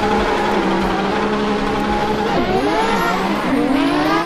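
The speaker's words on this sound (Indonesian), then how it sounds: "Di sini kakak menemukan mobil balap." A race car engine roars loudly and steadily, its pitch climbing and dipping as it revs, with no talking over it.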